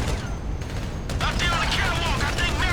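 Gunfire in GTA 5, with rapid shots and mechanical clatter crowding a loud action scene, dense and continuous, while a voice talks over it.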